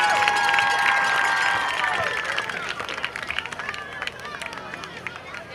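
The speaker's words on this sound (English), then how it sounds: "Give a huge round of applause for your Hyde Park Prancers." Crowd applause at a high school football game at halftime, broad cheering and clapping that fades into scattered claps, heard in a large open stadium setting.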